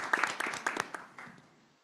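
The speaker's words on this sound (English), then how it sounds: "That deserves applause." Applause from attendees at a library board of trustees meeting, a short burst of scattered clapping that starts fairly strong and thins out over about two seconds.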